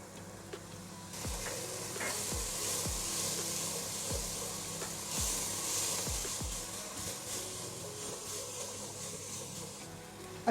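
Onions, garlic and ginger frying for a prawn curry, a soft steady sizzle with a series of low thumps and scrapes from stirring in the first half, close and fairly quiet, no voices.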